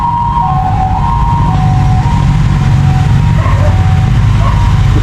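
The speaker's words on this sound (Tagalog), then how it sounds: "may dadaang ambulansya" An ambulance siren wails through loud road noise as the vehicle passes, its tone rising and falling over steady traffic rumble.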